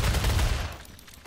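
Sniper fire in a video game: a short, booming shot with a dull, rumbling tail, moderately quiet and heard alone.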